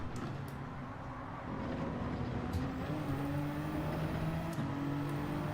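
Honda NSX engine in Gran Turismo 7, a steady loud drone rising in pitch through the gears as the car accelerates, with brief clicks of gear shifts.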